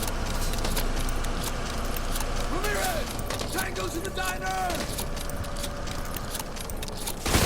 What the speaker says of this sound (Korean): 총알 넣는데 하루종일